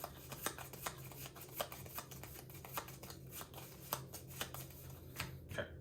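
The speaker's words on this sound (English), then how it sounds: "let me shuffle these around" Playing cards from Arkham Horror: The Card Game are shuffled by hand close up, giving a steady run of crisp riffling snaps and slaps over a faint hum.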